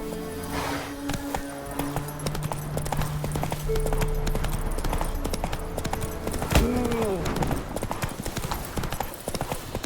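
Hoofbeats of the horse Roach in The Witcher 3, a dense, steady clip-clop of a trotting horse close up, with tonal game sounds and a brief whooshing sweep partway through.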